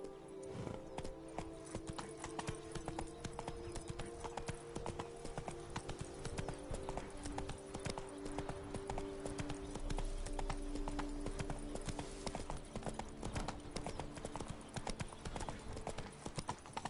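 Rapid, continuous hoofbeats of the horse Roach galloping in The Witcher 3, a steady rhythmic clip-clop running throughout over game sound, with brief speech mixed in.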